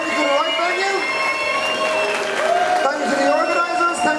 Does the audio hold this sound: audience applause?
yes